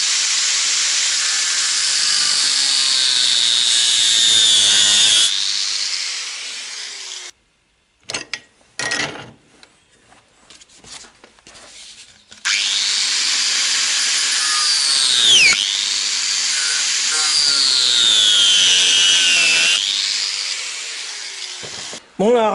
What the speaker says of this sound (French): je coince ma charnière de magnéto et je commence par couper les têtes